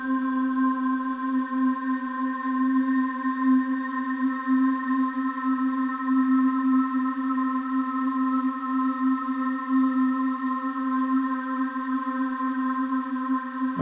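A steady synthesizer drone from Ableton's Wavetable synth holds one low note with bright overtones, sustained and unchanging, with a faint hiss running underneath.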